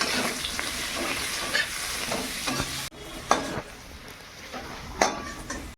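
Turmeric sizzles in a hot pan while a utensil stirs and scrapes through it, a steady close frying hiss with a brief break midway and a few sharper clinks.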